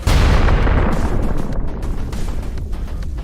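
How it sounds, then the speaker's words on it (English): A vehicle and its hidden ammunition explode in a war zone, one massive close blast that booms loud at once, then decays into a rumbling roar with crackling pops trailing off. "ultimately igniting their hidden ammunition and causing a massive explosion"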